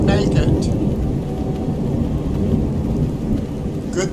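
Steady rain and rumbling thunder from a Skyrim thunderstorm, a dense continuous wash of low rumble and hiss that stays loud throughout the few seconds.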